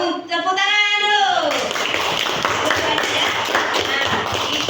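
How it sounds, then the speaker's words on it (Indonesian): Classroom applause from a group of students, a burst of fast hand clapping that starts after a teacher's rising voice and continues steadily, with chatter mixed in. "Iya, tepuk tangan dulu."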